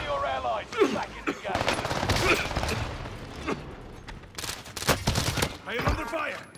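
Gunfire in a battle royale game: loud bursts of automatic fire and scattered single shots crackling close by over several seconds, with a game voice and player speech mixed in between the volleys.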